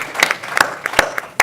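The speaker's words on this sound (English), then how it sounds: "please do clap" Scattered hand claps ring out at a medical foundation talk, a handful of distinct, fairly loud claps at uneven intervals over a low murmur of room noise.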